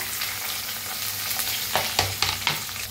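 Onion and curry leaves frying in a pan with cumin, sizzling steadily while a spoon stirs them, with a few louder scraping strokes toward the end; no talking.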